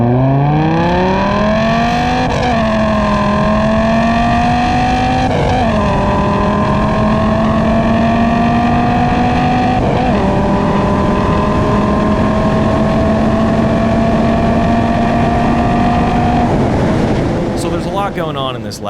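A Corvette and a Viper race with loud, close engine roar, revving up through repeated gear shifts that each drop the pitch before it climbs again, then easing off at the end.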